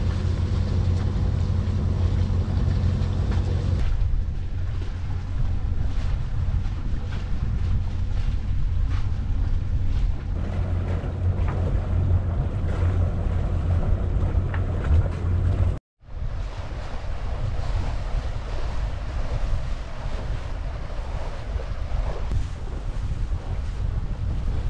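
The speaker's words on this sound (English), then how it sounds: "we're sailing. Got 12 knots of wind from the northwest." A sailboat heading south under sail in about 12 knots of northwest wind, with steady loud wind buffeting the microphone and waves washing against the hull throughout, briefly cut out once near the end.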